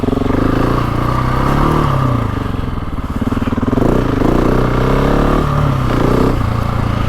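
A GasGas ES 700 motorcycle engine runs steadily at part throttle on a wooded trail, its loud, continuous note rising and dipping as the revs change, close to the listener with no talk.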